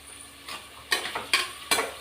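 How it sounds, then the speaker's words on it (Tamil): Onion sautés in a pan for a brinjal gravy, a low sizzle under three or four distinct scraping stirs of a spoon spaced about half a second apart, with no speech. "வதங்கட்டும். வெங்காயம்"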